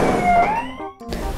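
A toy ambulance siren plays during a pretend hospital game with dolls, a wavering electronic wail that sweeps upward, fades briefly near the end, then returns, loud and close with no voices over it.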